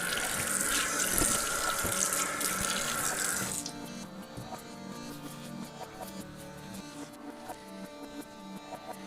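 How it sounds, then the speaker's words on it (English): Tap water runs loudly into a sink as a Wilkinson Sword Quad Blade hybrid safety razor is rinsed, then the flow cuts off, leaving quieter drips and small handling noises. "So we're just going to give this a rinse off."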